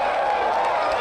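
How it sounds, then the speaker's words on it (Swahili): A crowd at a public gathering for county governor Kawira Mwangaza breaks into steady, dense applause that stays loud and constant from start to finish, with mixed cheering and voices in the background. "makofi yake."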